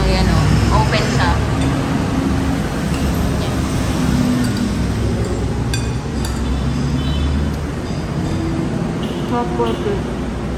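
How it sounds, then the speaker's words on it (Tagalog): Passing vehicles rumble steadily beside an open-air restaurant in San Juan, La Union, with people talking, dishes clinking now and then, and a constant loud roadway hum underneath. "Maingay lang yung mga sasakyan kasi ano yan o, open siya."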